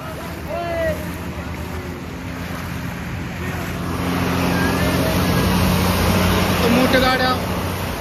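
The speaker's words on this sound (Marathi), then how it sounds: "इथं पाणी पण भरपूर ओढत आहे" Floodwater rushing strongly across a closed road on the Nagar–Solapur bypass, a broad roaring wash with wind buffeting the microphone, growing louder midway, while people talk nearby.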